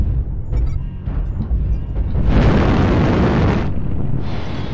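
Artillery strike explosion in a video game, a long rumbling boom that swells after about two seconds and roars broad and loud, layered over an already heavy low background rumble.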